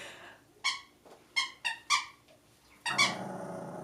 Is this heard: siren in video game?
no